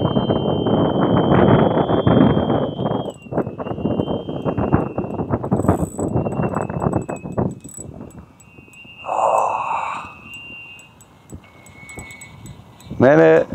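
Strong wind buffets the microphone in heavy, gusty rumbles at a carp fishing lake, easing partway through, with a high steady whine and brief voices in the background.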